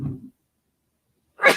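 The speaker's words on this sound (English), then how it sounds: "I feel a sneeze coming on." A single sneeze from an adult man, starting with a brief low breathy build-up, then a gap of silence before the sharp, loud burst of the sneeze at the end.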